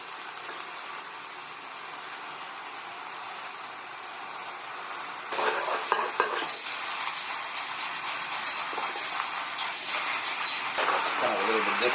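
Sliced London broil beef hitting a hot small wok with soy sauce, a steady steamy hiss that jumps louder and harsher midway as the meat and sauce go in, with faint talk in the background.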